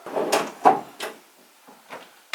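A series of short wooden knocks and slides from drawers in a baby's room being opened, several separate thuds spaced across the moment, close and fairly quiet, with no voices.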